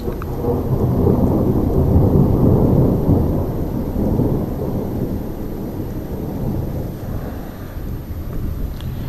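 Thunder rolling during a night thunderstorm, a deep sustained rumble that swells early and slowly fades, moderately distant with faint rain and wind beneath.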